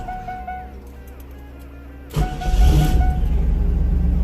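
A 1997 Pontiac Trans Am engine cranks and catches after a quiet stretch with faint background hum, then settles into a loud, rough, steady idle up close.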